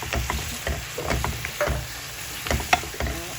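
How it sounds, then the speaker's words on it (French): Stuffing mixture being stirred in a bowl for homemade stuffed bread, seasoned with chili and salt, giving steady, close scraping and mixing scrapes with a few sharper clinks against the bowl, no talk. "On mélange bien. Comme ça, notre farce, elle est prête."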